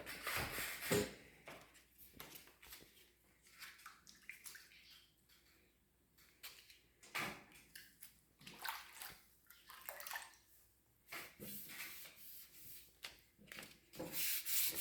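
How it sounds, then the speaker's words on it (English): Wet, rhythmic scrubbing strokes of hand sanding on the grill of a Kubota mini dozer, rising and falling in bursts with a watery hiss, close up and moderately loud. "start doing a little wet sanding here"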